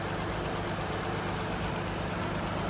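A 2018 Toyota Kluger GX engine idling, a steady, even hum with no knocks or rattles, heard up close and alone with no talking.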